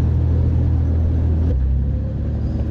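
An off-road vehicle engine rumbles heavily and steadily in low gear while climbing Bald Mountain, a loud continuous low drone with no pauses.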